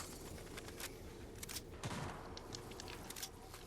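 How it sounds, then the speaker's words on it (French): Shotgun blasts in the video game Fortnite, a scatter of sharp bursts and booms over busy game ambience, some nearer and louder, others distant, with no talk. "il y a eu des gros coups de pompe qui sont partis"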